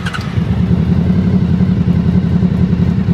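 A vehicle engine runs loudly and close by with an exhaust fan on, holding a steady, rapid chugging idle throughout the short stretch.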